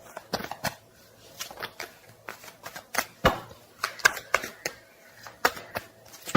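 Tarot cards being shuffled up close, a series of crisp riffling flicks and soft slaps coming in irregular bursts, with faint quiet noise between them.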